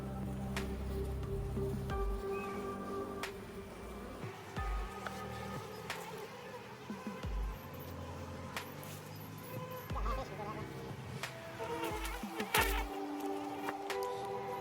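Swarm-trap honeybees being brushed and transferred into a hive box, a faint, steady buzzing close by with light rustling and scraping handling noises.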